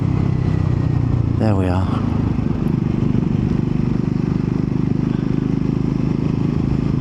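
A Triumph Scrambler 400X motorcycle holds a steady, loud low engine drone for the whole ride, with a brief spoken phrase early on over the engine noise.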